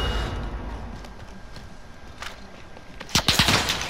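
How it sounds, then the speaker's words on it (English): Gunfire in Call of Duty Warzone, a short burst of sharp shots near the end following quieter, scattered distant pops over a steady game ambience, with no talk. "I am under fire"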